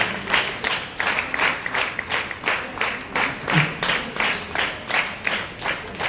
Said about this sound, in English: Please clap, teachers.